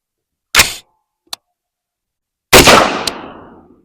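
Gunshots from a 5.56 rifle with an 11.5-inch barrel firing Gold Dot 75 grain rounds: two sharp loud cracks about two seconds apart, the second with a long rolling echo, plus a small click between them.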